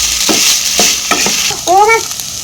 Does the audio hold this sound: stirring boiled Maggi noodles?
yes